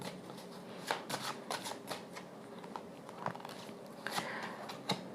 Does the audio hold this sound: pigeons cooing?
no